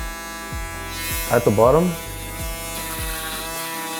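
An electric shaver buzzes with a steady motorized hum, its pitch dipping periodically as it cuts through hair, while a person briefly speaks over it.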